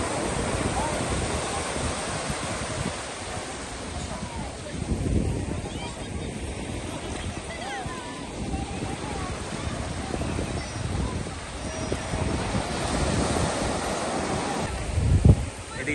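Sea waves roll onto the beach at Cox's Bazar with a steady broadband wash, gusts of wind buffeting the microphone and people talking faintly nearby throughout.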